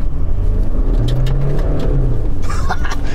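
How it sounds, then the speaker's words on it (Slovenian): A 2022 Toyota Hilux 2.8 D-4D diesel pickup engine revs up and holds a deep, rumbling, throaty drone, loud and close, with a brief higher whine near the end. "je motor. Poslušajte to."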